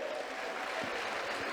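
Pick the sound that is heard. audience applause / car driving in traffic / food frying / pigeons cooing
audience applause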